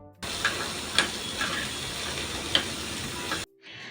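Onion and capsicum fry lightly in oil for a cheese corn toast filling, giving a steady close sizzle with a few sharp pops and spatula clicks, then cutting off abruptly near the end.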